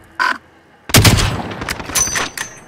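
Gunfire in the military shooter game ShackTac: a short burst near 0.2 s, then a loud sharp shot close by followed by ragged reports and echoing booms over about two seconds.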